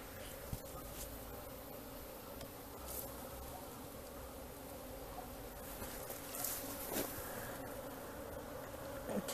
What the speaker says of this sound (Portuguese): E até o final vocês vão ver lá todas as abelhas lá dentro.